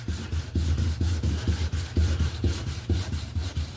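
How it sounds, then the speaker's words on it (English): Sandpaper wrapped on a paint stick scrubs paint off a 1966 Ford Mustang in fast, rhythmic back-and-forth strokes, close and loud, about two strokes per second, with no talking. "that's why the edge of that paint stick and that sandpaper cuts this as fast as it does"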